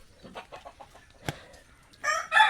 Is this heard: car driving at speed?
no